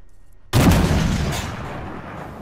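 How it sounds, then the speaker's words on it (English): Fuel tanks blow up in the tank combat game Armored Warfare: a sudden loud, close blast after brief quiet, its heavy roar rolling on and slowly fading. "Blow up the fuel tanks."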